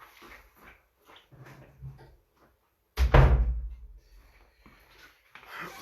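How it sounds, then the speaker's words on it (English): A door swings shut with a single loud thump partway through. Quiet indoor room noise and a few faint knocks come before and after it. "Sorry, let me close the door."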